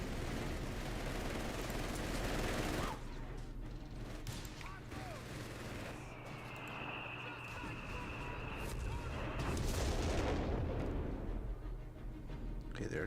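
A Total War Warhammer battle between Cathay and Kislev armies carries a continuous rumble of distant artillery and gunfire, with scattered booms, under someone talking.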